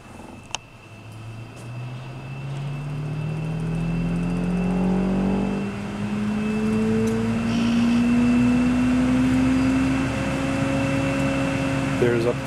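A Thermo Scientific Sorvall ST16 benchtop centrifuge spins up toward 4000 RPM, its motor whine rising steadily in pitch over a constant whirring hum. The sound is close and loud, and a person speaks briefly near the start.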